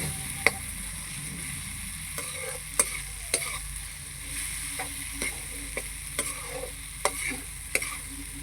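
Egg, red chili masala and tomato fry in a pan under a soft, steady sizzle, with sharp spatula clicks against the pan at irregular intervals.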